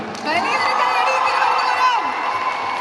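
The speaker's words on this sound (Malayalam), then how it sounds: "വലിയൊരു കൈയടി ഇവിടുന്ന് തരണം" A crowd at an event for actor Dileep cheers and shouts loudly, many excited voices blending into a sustained roar with whoops rising over it, near and continuous.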